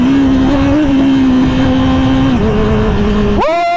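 A Honda CBR1000RR-R superbike engine idles high and loud up close with a steady buzzing drone, shifts pitch slightly, then snaps into a sharp rising rev near the end; no voices.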